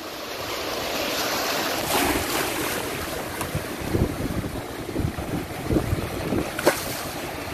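Sea waves washing and surging around a rider on a giant oversized board, with strong wind buffeting the microphone and rushing water building toward irregular splashes in the second half.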